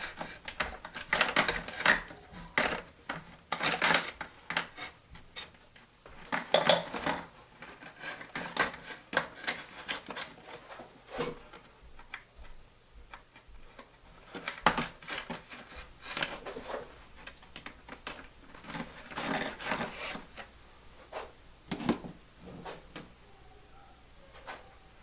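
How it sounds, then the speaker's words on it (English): Hobby knife scraping and picking out cut grooves in a Wicked Yak 55 model airplane for motor mount supports, a series of close, dry clicks and scratchy strokes in irregular bursts, fairly faint overall. "I'm going to clean out the grooves that are cut for the motor mount supports with my hobby knife"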